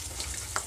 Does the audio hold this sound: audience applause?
no